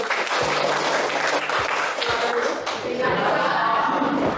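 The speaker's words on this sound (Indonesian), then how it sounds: "Tepuk tangan dulu." A class of students claps and applauds loudly and steadily throughout, with a few heavier thumps mixed in and voices underneath.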